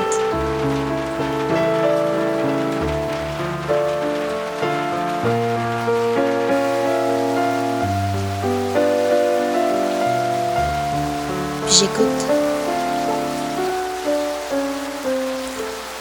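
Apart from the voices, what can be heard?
rain falling on leaves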